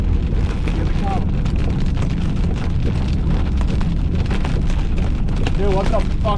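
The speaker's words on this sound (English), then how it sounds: "Yeah, big time hail." Hail pounds down during a cold core storm chase in Kansas, a dense, steady clatter and roar lasting throughout, with voices talking over it.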